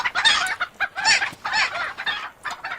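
Clucking chickens from a Godot-made island video game, a run of busy, bright cackles and squawks in several bursts, loud and near with no talk over them.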